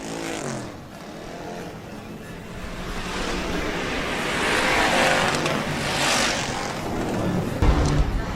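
Sportsman class race cars roaring past at Rapid Speedway during a heat race, engine noise swelling and fading as cars pass, with a busy crowd and track background.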